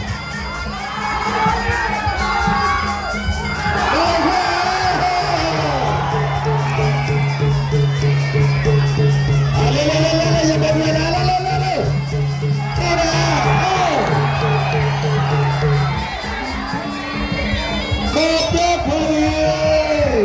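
A large crowd at a Muay Thai boxing match cheers and shouts continuously, loud and dense, with rhythmic chanting and individual yells rising above the roar.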